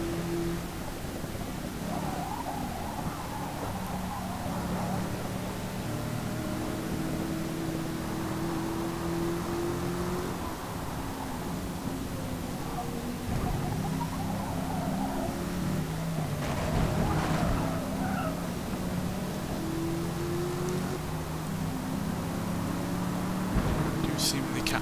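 Race car engines drone in Forza Motorsport, a Trans Am and Camaro sharing the same engine, with steady mid-pitched humming and shifting tones under continuous commentary.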